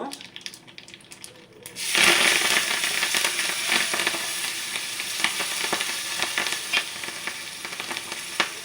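Curry leaves dropped into hot oil for a guava rasam tempering, bursting into loud crackling sizzle that stays steady with sharp pops throughout, after a quieter moment of clinking before the leaves go in.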